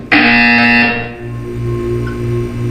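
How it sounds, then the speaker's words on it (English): In the video game Portal 2, a loud, harsh electronic buzzer blares for about a second with a sudden start, then gives way to a lower, steadier humming drone. "You will hear a buzzer."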